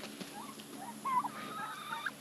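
A homestead chicken makes soft, faint clucks and a few short chirping calls close by, scattered over quiet outdoor background noise, with nobody speaking.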